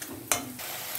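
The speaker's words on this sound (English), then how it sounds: "We'll be frying this till the ginger garlic's raw smell goes away." Ginger garlic paste and green chillies sizzle in hot oil for a vegetable kurma, a steady frying hiss broken by a brief sharp clatter of stirring.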